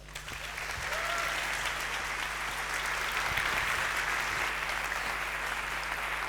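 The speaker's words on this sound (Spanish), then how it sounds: "un fuerte aplauso para Antonio Martínez Ron." An audience applauds to welcome a speaker onto the stage, a loud, sustained round of clapping that builds within the first second and then holds steady without any voices over it.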